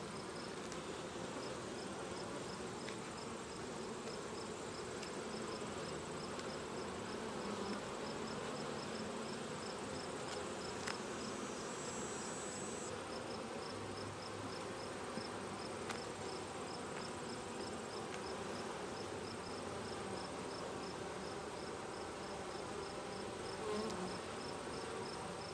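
Honey bees buzz steadily around hive frames while a beekeeper checks a summer nucleus colony, a continuous faint outdoor hum with occasional nearer passes and no speech.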